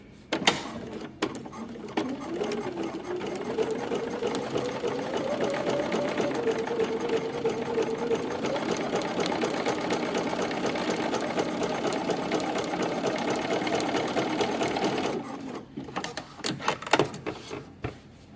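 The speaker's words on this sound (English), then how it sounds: "When I am stay stitching this, I am just doing it at about 1/4 inch." Close up, a sewing machine stay-stitches a quarter inch from the neckline of a dress, running in one steady, even whir for about fifteen seconds, with a few clicks and handling knocks before and after.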